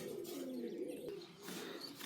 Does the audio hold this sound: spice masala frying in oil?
no